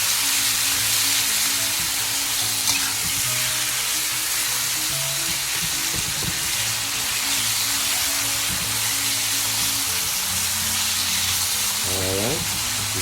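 Thin beef slices flash-fried for bistek tagalog, a loud continuous sizzle in a hot pan with scraping and stirring throughout, and a voice speaking briefly over the frying.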